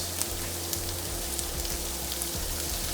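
Onions sizzle on a grill with a steady, close frying crackle and occasional small pops, continuous and fairly loud.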